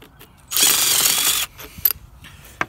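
A ratchet wrench turns bolts loose on a Flint and Walling CJ101 series pump, a fast clicking burst of about a second followed by a few sharp metallic taps and clinks, close and fairly quiet with no talking.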